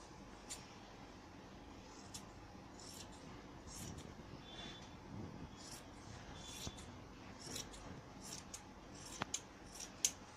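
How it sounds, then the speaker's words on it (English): Scissors snipping through fabric for a homemade dog bed, quiet repeated cuts at an uneven pace, fairly close over a low background hiss. "Now I'm going to cut it."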